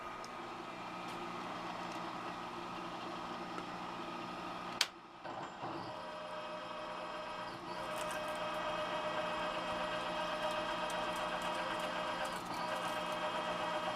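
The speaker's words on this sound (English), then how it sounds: "Making pretty chips." A metal lathe running in back gear at 170 RPM, cutting steel and throwing chips during machining for a servo indexer mount, gives a steady, close mechanical whir and hum with a brief pause near the middle, then continues evenly.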